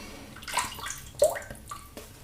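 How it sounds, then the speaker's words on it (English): Water is added to shave soap and a brush works it into lather, giving soft wet swishing and squelching strokes in a few uneven bursts, close and fairly quiet. "I'm gonna add a little bit of water to that."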